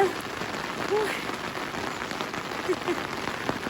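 Steady rain falls in the forest during mushroom picking, a dense pattering wash throughout with a few faint bird chirps over it.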